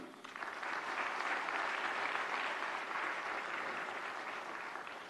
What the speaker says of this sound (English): Amidst a round of applause